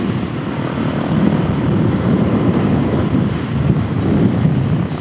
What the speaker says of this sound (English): The wind is blowing quite aggressively.